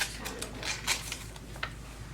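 Quick, uneven clicking of keys being typed on an AUKEY mechanical gaming keyboard, close up and fairly quiet, with short pauses between bursts.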